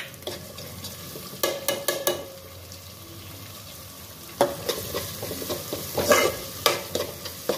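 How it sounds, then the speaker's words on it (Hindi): Ginger garlic paste fries with onion and tomato in a pan for a chicken and methi dish, a soft sizzle broken by bursts of spoon scraping and stirring, louder toward the end, with no voices. "एक मिनट तक इसको अच्छी तरह भून के ले लीजिए जिंजर गार्लिक पेस्ट को।"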